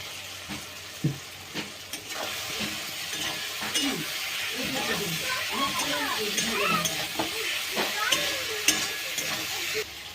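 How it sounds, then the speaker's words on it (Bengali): Potatoes fry in spiced oil with masala as they're stirred and sautéed for a jackfruit-and-egg curry, a steady close sizzle broken by repeated scraping stirs and spoon knocks against the pan. "এবার আলুগুলো দিয়ে আর একটু ভালো করে কষিয়ে নেব"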